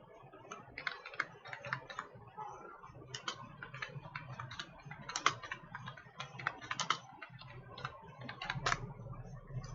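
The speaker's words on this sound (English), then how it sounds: "I am typing the school name" Rapid typing on a computer keyboard in Microsoft Word, with quick, irregular bursts of clicking keystrokes heard close and fairly quiet, with no voices.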